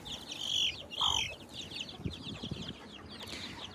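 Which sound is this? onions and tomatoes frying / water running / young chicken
young chicken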